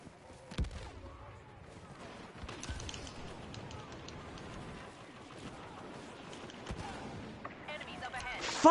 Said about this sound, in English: This guy's shooting me through a fucking wall